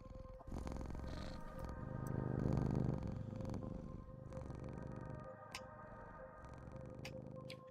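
Soft, continuous purring from a cat in the video game Bookshop Simulator, low and steady for several seconds over a quiet background hum and a few faint ticks, with no voices.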